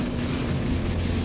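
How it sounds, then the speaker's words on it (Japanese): A deep, rumbling explosion with a continuous roaring blast and crackling debris, loud and close, in a synthetic game-like mix, from the video game Clock Tower 3. "おお、何やこれ、爆発してる"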